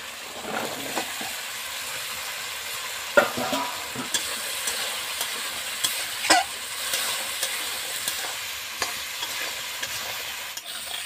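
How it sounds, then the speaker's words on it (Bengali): Cut potatoes stir-fried in spiced oil with salt, a steady close sizzle broken by a series of sharp scraping and tapping stirring strokes against the pan, no voices. "এবার আমি কেটে রাখা আলু দিয়ে দিব।"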